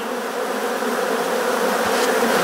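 Africanized honey bees hum in a dense, steady drone at an open hive during queen introduction, close and continuous throughout with no talk.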